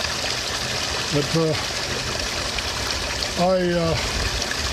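Spring water runs in a steady broadband trickle throughout, under two brief bursts of nearby male speech.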